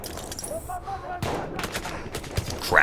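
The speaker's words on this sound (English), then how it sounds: "Where is that weapons fire?" Weapons fire in the World War 1 shooter Battlefield 1, a few sharp cracking shots and a distant rumbling burst over a noisy battlefield backdrop, loud and close.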